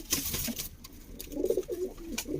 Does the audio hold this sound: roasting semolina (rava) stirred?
no